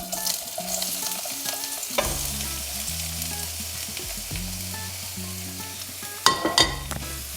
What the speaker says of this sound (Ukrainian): І злегка її підсмажимо.